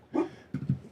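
A dog gives a short bark followed by two quick yips, moderately close but not loud, in a room where people were talking.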